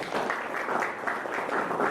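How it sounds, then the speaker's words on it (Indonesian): An audience at a campus youth seminar applauds, a dense, even patter of many hands clapping together throughout. "Kasih tepuk tangan."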